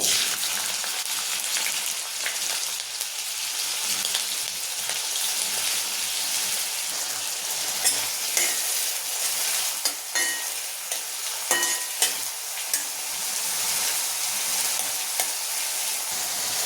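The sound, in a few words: onion frying in hot oil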